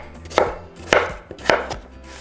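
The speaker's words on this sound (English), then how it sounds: "we're going to cut them in small cubes" A knife chops peeled potatoes into small cubes on a board, four sharp, evenly spaced cuts about half a second apart, close and clear with no talking.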